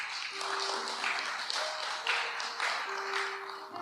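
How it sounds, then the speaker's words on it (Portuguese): A church congregation applauds steadily, a dense wash of clapping with a sustained tone running beneath it. "Pode aplaudir Jesus, igreja?"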